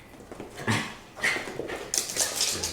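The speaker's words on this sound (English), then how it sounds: "Our dog is the neediest dog in the world." A needy house dog whimpers and whines for attention in short, uneven bursts at close range, with no talking alongside.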